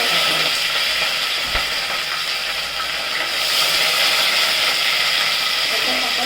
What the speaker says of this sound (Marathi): मोहरी टाकली की त्यात तळली की मोहरी तळते त्यात कढीपत्ता टाकूया.